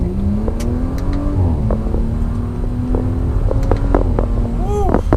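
A 2018 Audi RS5 pulls hard through the gears, its engine note climbing then dropping at each upshift, loud and steady from inside the car, with a few faint chirps over the drone.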